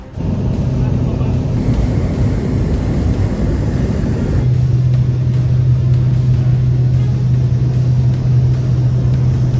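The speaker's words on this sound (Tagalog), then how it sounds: "isang J-15 fighter jets na ng China ang lumipad sa itaas ng eroplano ng Philippine Coast Guard" A Chinese J-15 fighter jet passes over a Philippine Coast Guard plane at close range, heard as a loud, steady engine roar and rumble that continues throughout, with a deeper drone settling in partway through.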